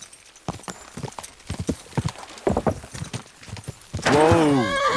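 In Kingdom Come: Deliverance II, hooves clip-clop unevenly, close by, then a horse lets out a loud, long neigh that fills the end.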